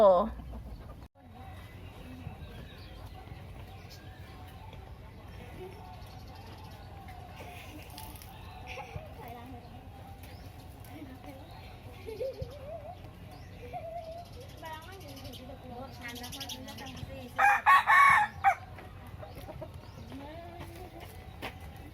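Free-ranging village chickens in a rural Uttaradit backyard, clucking intermittently and faintly in the background while someone talks, with a brief louder burst of squawking near the end.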